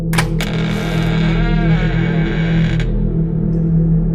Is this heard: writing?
no